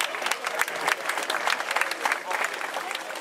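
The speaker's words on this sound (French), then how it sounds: "On applaudit encore le podium junior." Crowd applause for the junior podium at a cyclo-cross race finish, steady dense clapping throughout with some voices mixed in.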